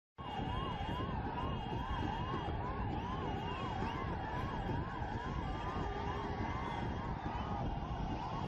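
An ambulance siren wails in a fast repeating up-and-down pattern, loud and continuous, over rumbling traffic noise in a dense Mumbai crowd.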